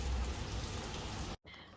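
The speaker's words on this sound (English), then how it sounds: "I have a feeling this boat trip is going to be cancelled because it's currently raining like" Heavy rain pours steadily as a dense, even hiss near the mic on a morning in the Faroe Islands, then cuts out briefly before a quieter wash of background noise.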